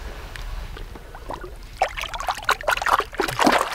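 A musky released back into a northern Wisconsin lake, water trickling and splashing in irregular bursts that grow louder and busier toward the end, close by and with no talk.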